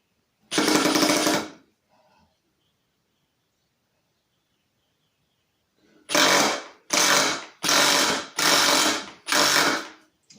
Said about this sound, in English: for some reason it's not driving that lag bolt